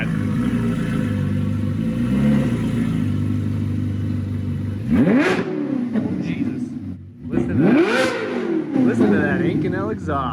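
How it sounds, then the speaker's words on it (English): A car engine idles with a deep burble, then revs hard twice through a loud Inconel exhaust, each blip climbing and dropping back. "let's see what this exhaust sounds like"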